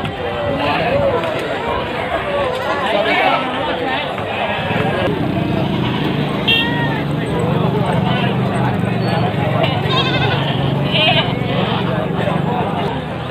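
Etawa goats bleat at the Legi livestock market in Munjungan, Trenggalek. Loud, close market bustle runs throughout, with people talking over the animals.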